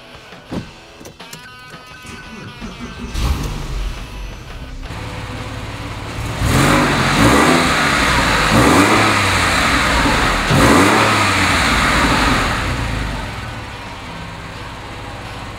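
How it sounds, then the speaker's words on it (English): A 2006 Porsche 911 engine cranks and fires up, then revs hard several times in rising and falling bursts before settling, loud and close with no talking. "How about I start it for you so you can hear what it sounds like?"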